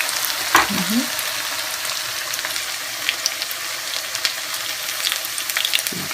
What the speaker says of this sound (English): Before I started frying these fritters, I added some more oil